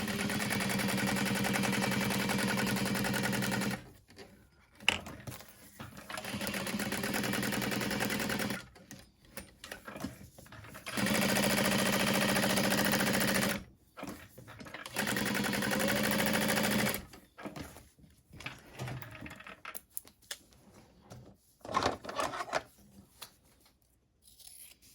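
A sewing machine stitches the lining fabric of a small travel bag at a long 4.5 stitch length, running in steady loud bursts of several seconds separated by short pauses.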